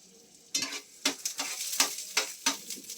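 Onion, garlic, ginger and chili frying in a pan, with a steady soft sizzle broken by about half a dozen sharp spatula stirs and scrapes against the pan, close up and without talk.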